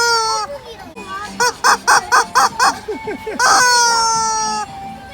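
Toy chicken squawking in a Dongdaemun variety store while shopping for Halloween costumes: a run of five or six rhythmic squawks, then a longer drawn-out squawk, loud and close, with children's and adults' voices around it.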